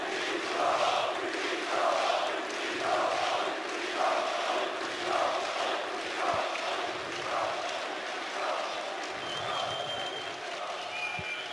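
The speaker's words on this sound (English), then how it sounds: "There and now comes the chanting as well." Arena crowd at the CS:GO Katowice 2016 grand final between Fnatic and Luminosity, chanting in a steady rhythmic pattern of repeated loud pulses, a huge massed roar filling the hall throughout.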